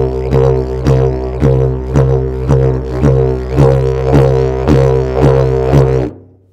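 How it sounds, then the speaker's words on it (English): A didgeridoo drones steadily with bounce breathing, a body-assisted circular breathing technique, so the low buzz pulses in a regular rhythm of about a dozen accents before stopping abruptly. "This is also called bounce breathing"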